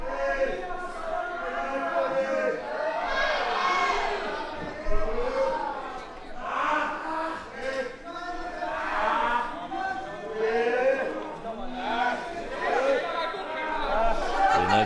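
Arena crowd at a professional wrestling show, a steady murmur of many voices with swelling cheers and shouts throughout, loud and continuous, reacting as a wrestler plays to the audience.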